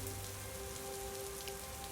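Light drizzle falling around an old, weathered concrete building in the Orinoco basin, a steady, even hiss of rain on surfaces with no pauses, fairly close and unbroken throughout.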